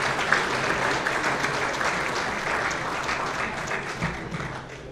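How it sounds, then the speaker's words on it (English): Sustained, dense applause from an audience at the Long Beach City College Hall of Champions awards ceremony, steady and loud for the full five seconds with no talk over it. "let's give one more round of applause to Christian Wintrip"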